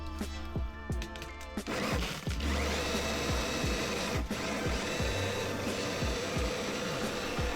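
An electric drill drives the rollers of a grain mill crushing malt for home brewing; after a brief quieter start, a dense whirring grind with rapid clattering ticks runs continuously and loudly.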